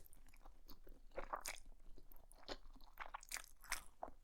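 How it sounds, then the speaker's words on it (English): Close, crunchy bites and chewing of black bean noodles with enoki mushrooms and shrimp, a steady run of wet crunches and mastication sounds with no talking. "let's take a first bite"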